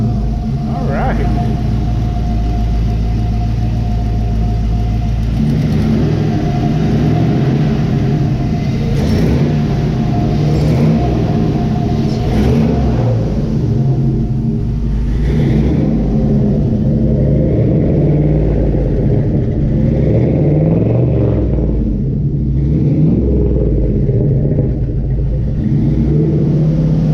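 A 1971 Chevy Camaro engine cranks over and settles into a loud, steady rumbling idle with occasional revs, heard close for a long stretch with no one talking.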